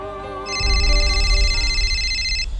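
A phone rings with a steady electronic ringtone, a call from a brother, repeating its bright tone for about two seconds over a low background rumble, close and clear without talk.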